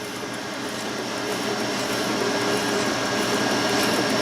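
A Super 8 film projector's chain-driven motor runs steadily, its speed set by a small variac, giving a continuous broadband whirring drone that holds at a constant level throughout.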